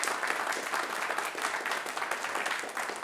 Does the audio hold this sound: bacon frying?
no